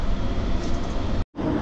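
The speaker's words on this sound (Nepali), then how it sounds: "ड्राइभर बिनाको रेल हो होइन" A driverless train in Japan runs along with a steady, loud rumble and rolling noise heard from on board, briefly dropping out for a moment before resuming.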